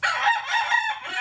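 A rooster crows a long, loud cock-a-doodle-doo close by, with chickens around, outdoors in a rural yard.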